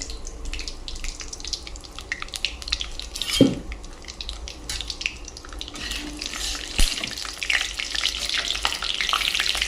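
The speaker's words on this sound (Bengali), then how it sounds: "জায়ফল একটুখানি আছে, এটা ফোড়ন দিয়ে দেব" Nutmeg and whole spices frying in oil for a tempering, a steady close crackle with occasional clinks of a utensil against the pan and a sharper knock midway; no talking.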